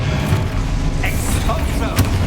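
A Confringo blasting spell going off in Hogwarts Legacy, low rumbling booms under a busy game soundscape with a few sharp bright magical bursts, one near the middle and a crackling hit toward the end.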